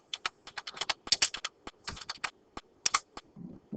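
A run of quick, close computer keyboard keystrokes as a command is typed at a Windows prompt, irregular clicks in short bursts with brief pauses and no talking.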